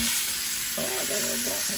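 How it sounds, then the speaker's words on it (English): Steak frying in a pan sizzles steadily and close up, with a brief stir or scrape near the end and no talking. "It's yeah, it's sizzling. You can hear it,"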